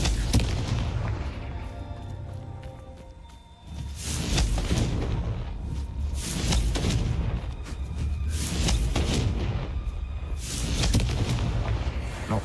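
Confringo blasting-spell explosions in the wizarding video game Hogwarts Legacy, a dense run of loud booming bursts and crackling impacts over a rumbling game soundscape, with a brief lull before the barrage resumes.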